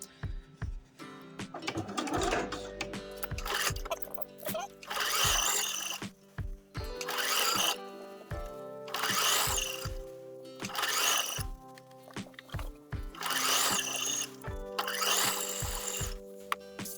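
Sewing machine stitching a canvas binding strip onto a tote bag, running in repeated bursts of fast whirring separated by short pauses and soft handling clicks, no talking.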